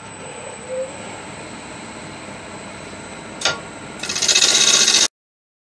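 Wood blank spinning on a lathe as it is rounded, flattened and mortised, a steady rubbing, rasping cut throughout, with a sharp scrape near the middle and a louder, brighter cutting burst before it abruptly stops.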